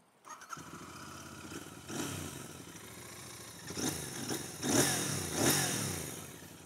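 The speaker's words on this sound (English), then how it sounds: "we're going to get back on the bike, we're going to go for a first ride, nice spin out" Royal Enfield Interceptor 650 motorcycle starting and riding, its engine catching then revving in several rising surges, close and moderately loud, no talk.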